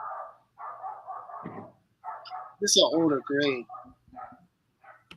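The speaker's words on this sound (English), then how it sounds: "Sorry for my dog, guys." A dog barks a few times in the background during a live Marvel trading card grade reveal, its short yelps landing under and between steady conversational talk.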